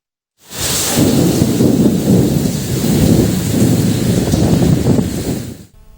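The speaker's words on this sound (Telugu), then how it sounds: "కోనసీమ జిల్లాలో ఉరుములు మెరుపులతో భారీ వర్షం కురిసింది." Heavy rain pours down steadily during a thunderstorm in Konaseema district, Andhra Pradesh, with deep rolling thunder rumbling through a loud, continuous downpour, no voices present.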